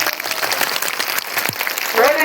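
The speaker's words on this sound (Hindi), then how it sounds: "समर्थन ताली बजा के समर्थन करो" A crowd claps in support at a dam protest in Raghopur, producing dense, continuous applause of many hands close by. A voice rises briefly near the end.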